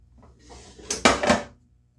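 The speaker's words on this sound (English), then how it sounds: "I just have some cornmeal mix that I'm going to toss these in." Vegetables tossed in a cornmeal mix inside a bowl: a short, close rattling shake of about half a second, made of a few quick scraping knocks, in an otherwise quiet kitchen.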